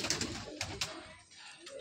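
Madrasi pigeons from an old fifteen-year generation kept at a loft coo in short, soft bursts close by, several overlapping calls with brief pauses between them.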